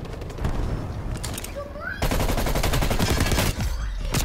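Rapid bursts of gunfire in a shooter video game, dense automatic fire near and loud, rising after a brief lull into sustained volleys, with a short whistling tone partway through.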